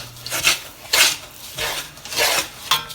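A laddu mixture is being stirred as water and condensed milk are slowly added, giving repeated close rasping scrapes of a spoon against the pot in an uneven rhythm with short pauses between strokes.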